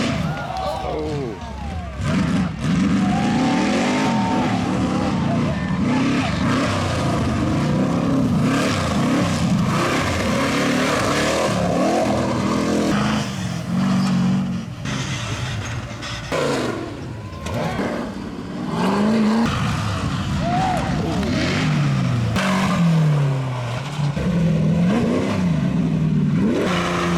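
Race cars on a Havoc cross course, engines revving and roaring continuously, rising and falling as they pass, with people talking over the noise.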